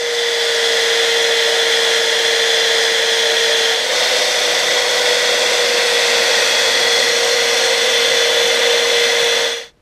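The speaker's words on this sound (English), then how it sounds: "I have not used this thing in a really long time, but I found a buffing wheel" A buffing wheel's steady, loud motor whine with a sustained high-pitched hum runs continuously for about ten seconds, then cuts off at the end.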